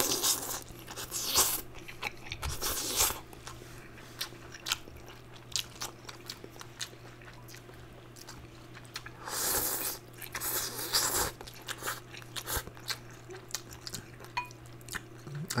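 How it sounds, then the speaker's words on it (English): Close, crisp bites and wet chewing of beef tendon noodles come in irregular bursts, some louder crunchy clusters, over a faint steady background hum with no talking. "let's go straight into it and let's eat some noodles"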